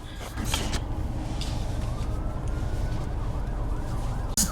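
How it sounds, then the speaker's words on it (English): Emergency vehicle siren on a street in Hawaii: a wailing tone sweeping up and down over steady traffic rumble, moderately distant and continuous, ending with a brief clatter near the close. "Oh, look, another siren."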